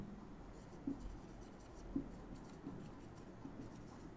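Pen or chalk writing on a board or paper during a maths lesson, faint continuous scratching with a few soft taps, no talk.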